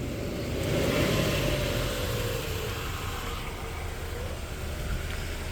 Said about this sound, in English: Charlie, we're gonna get you to manually give it gas up to 10 miles per hour